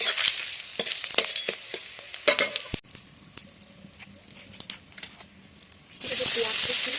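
Split bay leaf and two dried red chillies tempering in hot oil for a vegetable fish curry: scattered sharp crackles and pops, a quieter stretch, then a sudden loud, steady sizzle near the end.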